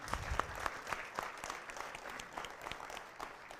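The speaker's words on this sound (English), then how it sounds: "Once again, a huge round of applause for Tom." Audience applause fills a hall after a talk on global terrorism, steady dense clapping at moderate distance with no voices over it.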